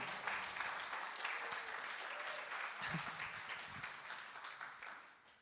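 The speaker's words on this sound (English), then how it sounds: "One more round of applause for that gorgeous, gorgeous song." An audience at a Sunday celebration service applauds after a song, with dense, steady clapping that is fairly quiet and slowly fades toward the end.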